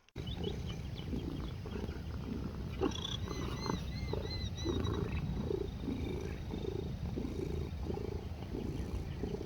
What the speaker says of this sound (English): That's Tiger in the picture right here that you hear purring